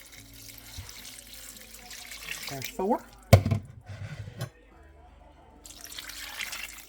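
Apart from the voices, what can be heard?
pouring cups of water into crockpot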